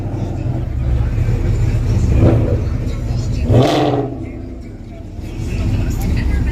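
A BMW street race car engine revs hard amid a noisy street racing crowd, the roar swelling sharply near the middle before settling back, with voices talking over the engine noise throughout.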